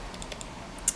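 Several light keystrokes on a Macintosh SE/30 keyboard, a few soft separate taps followed by one sharper click, close by and quiet with no voices.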